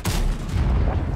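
A Leopard tank in a Wargaming tank game fires a single heavy shot, a deep booming blast that fills the whole moment, loud and close, with no talking.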